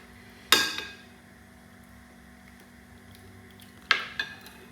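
A frying pan for fish is set down on a kitchen stove, giving two sharp metallic clanks a few seconds apart, close by, with quiet in between.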